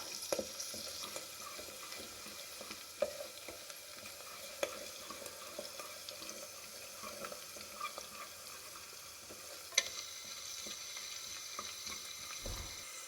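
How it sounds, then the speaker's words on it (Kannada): Chillies frying in hot oil give a soft, continuous sizzle, with scattered small pops and faint spoon scrapes against the pan, no one speaking. "ಚೆನ್ನಾಗಿ ಎಣ್ಣೆಯಲ್ಲಿ ಫ್ರೈ ಮಾಡಬೇಕು ಮೆಣಸಿನ್ಕಾಯಿ ಎಲ್ಲ."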